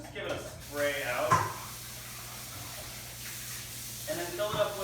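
Water is sprayed into a cooking pan in a home kitchen to rinse it out, giving short, soft hissing bursts over a quiet background.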